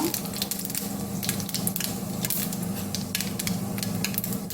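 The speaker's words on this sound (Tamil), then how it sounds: "கடுகு நல்லா பொரியட்டும்" Steady, dense sizzling and crackling of mustard seeds frying in hot oil, with continuous fine pops throughout and no voices.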